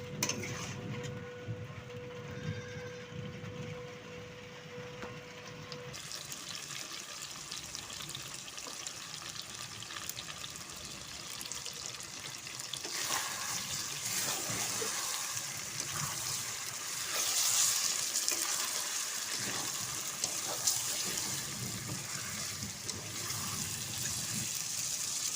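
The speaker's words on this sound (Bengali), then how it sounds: "জল দিয়ে দেবো, হালকা জল দেবো।" Water is poured into a pan of chicken kosha frying in a home kitchen, giving a steady splashing, sizzling wash that rises slightly midway and holds at moderate loudness.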